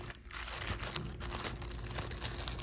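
Plastic packaging is pulled by hand off a doll box, giving close, faint crinkling and crackling that runs steadily throughout without any talking.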